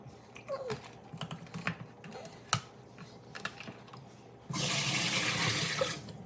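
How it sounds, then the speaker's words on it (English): Water poured off soaked mung beans gushes in a steady rush for the last couple of seconds, after close clicks and clatter of handling the container. "I'm going to drain the water from the beans."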